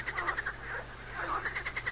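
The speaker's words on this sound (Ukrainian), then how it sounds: "Скрекоче жаба, плаче гірко" A frog croaks in a steady, rapid pulsing rhythm, fairly faint against a low background hum.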